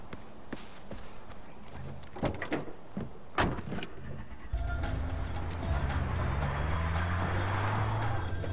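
Car in Far Cry 4 starting up and driving off: a few door and handling clunks at first, then a steady engine drone rising in pitch as it accelerates, close and moderately loud.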